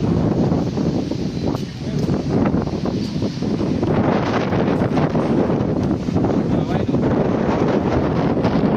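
Strong monsoon wind roars through Lushala village during an evening storm with lightning and heavy rain, a loud, constant gusting rush buffeting the microphone without a break.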